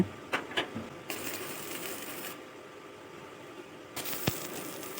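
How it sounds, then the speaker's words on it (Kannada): Electric welding of hinges onto the lid of an old metal drum being turned into a tandoori grill, a steady crackling hiss lasting over a second, with sharp ticks and clanks around it. "ಅದಕ್ಕೆ ಈ ಇಂಚಸ್ಗಳನ್ನ ವೆಲ್ಡಿಂಗ್ ಮಾಡ್ಕೊಳ್ತಾ ಇದ್ದೇನೆ"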